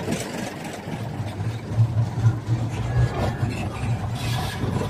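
Keiashima locomotive No. 3 at the PG Asembagus sugar mill runs with a steady low rumbling engine note and a rough, rasping texture, close by and continuous, with no voices.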